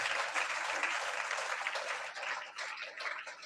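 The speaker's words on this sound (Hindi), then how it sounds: "जोरदार ताली बजाकर धन्यवाद दोस्तों।" Steady, dense applause from an audience at a church gathering fills the clip, moderately distant and even throughout with no talking over it.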